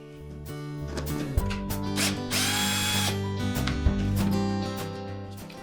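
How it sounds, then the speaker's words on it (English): A power drill or driver whirs in short bursts while the ground screw comes out of a Frigidaire refrigerator evaporator fan motor, with one longer, louder run in the middle over a steady tonal background. "Remove the ground screw."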